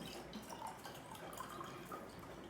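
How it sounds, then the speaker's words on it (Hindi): Ice-cold water is poured into a drinking glass, a soft continuous trickle with faint dripping and gurgling, quiet and steady throughout, with no talking. "मैं इस ठंडे पानी को इस ग्लास में डाल रही हूँ।"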